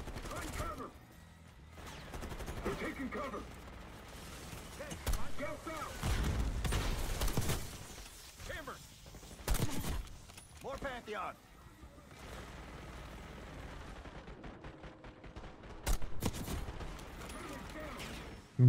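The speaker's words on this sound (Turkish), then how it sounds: "Minigun var herifte." Rapid minigun fire in Call of Duty Black Ops 6 during a casino heist, with bursts of gunshots and booms layered in game audio, and a player talking over it.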